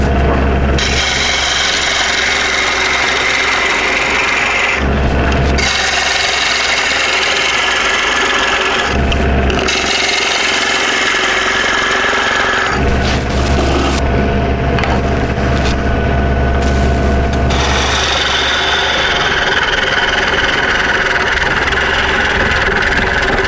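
Wooden bowl being turned on a lathe with a bowl gouge sharpened like a spindle gouge, triangular bowl. Loud continuous motor hum with rough cutting noise, broken by several brief pauses.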